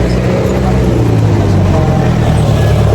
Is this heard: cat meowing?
no